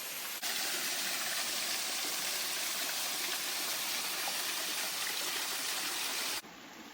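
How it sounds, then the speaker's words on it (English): A waterfall in Forillon National Park rushes in a steady, even wash of falling water, close and continuous, before cutting off abruptly. "They lead to such a beautiful waterfall like this."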